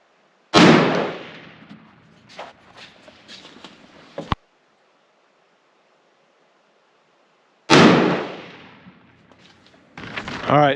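Rifle shots fired while sighting in rifles at a Minnesota deer camp: two loud, close cracks with ringing tails, separated by silence, with softer rustles and clicks between them.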